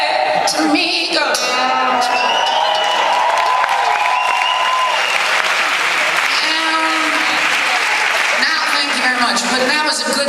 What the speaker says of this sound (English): I'm not sure if I deserve the applause